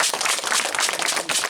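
A group of people clap together at a rural school gathering in Liberia, a dense, steady patter of hand claps close by, with no talk over it.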